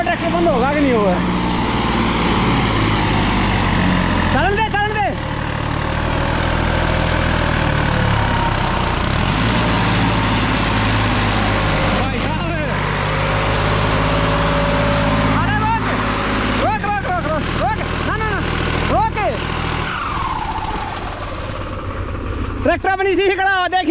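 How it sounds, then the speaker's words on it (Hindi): A New Holland 3630 tractor engine runs steadily in a farm setting, a constant low rumble with a few higher whining surges, while people talk over it throughout. "देखना वो ट्रैक्टर बंद होगा कि नहीं हुआ है"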